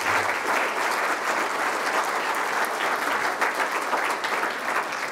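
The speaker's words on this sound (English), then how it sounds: "Could everyone please give them another round of applause?" Sustained applause from a large audience at a school awards ceremony, dense and even throughout, with no voices rising above the clapping.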